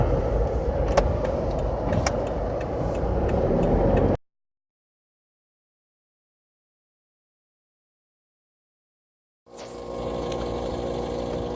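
A car on the Parry Creek Road back track into Wyndham gives a steady engine and road rumble, then drops to total silence for about five seconds before the driving noise returns.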